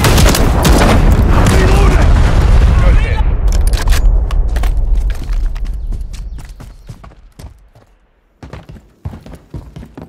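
Artillery strikes in Call of Duty Modern Warfare 3, a heavy rolling barrage of loud booming explosions up front that thins into scattered, sharper blasts and cracks as the rumble fades toward the end.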